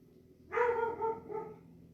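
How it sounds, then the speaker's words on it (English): A dog outside gives a short run of barks and yips, fairly clear and moderately loud over quiet background, no talk. "because the dog don't normally bark like that."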